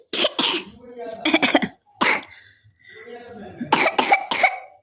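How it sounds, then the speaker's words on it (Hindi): A child coughs in several short bursts, close and fairly loud, with brief pauses between fits. "खांसी हो गई, खांसी हो गई मेरे बच्चे को"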